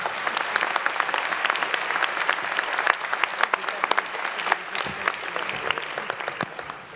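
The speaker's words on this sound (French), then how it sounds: "Vous pouvez encore applaudir Valérie" An audience at a New Year ceremony applauds warmly. The clapping is dense and sustained, with individual sharp claps standing out, and no one speaks over it.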